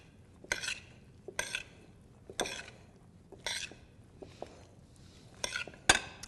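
Asian potato salad with scallions and cilantro being tossed in a bowl with utensils, a series of about six separate scraping, clinking scoops spaced roughly a second apart, close and fairly quiet, no talking.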